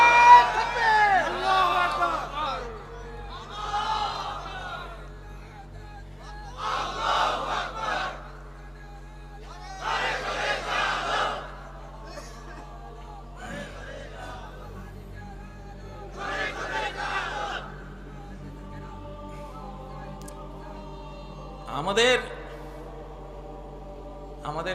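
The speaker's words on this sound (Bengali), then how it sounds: "তাকবীর দাও না রে ভাই" A crowd at a Bangla religious sermon chants takbir in repeated loud waves, each burst of many voices shouting together and then fading, with pauses between the roaring responses.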